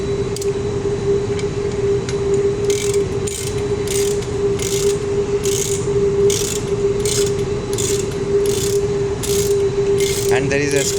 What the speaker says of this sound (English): We are equally tightening the bolts.